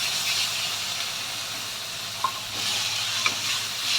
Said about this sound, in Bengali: একটু জল দেব মশলাটা কষানোর জন্য।